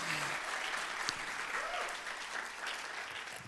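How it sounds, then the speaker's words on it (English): A church audience gives a steady round of applause for a panel being introduced, continuous soft clapping heard from a distance and fairly faint throughout. "Let's give them a round of applause."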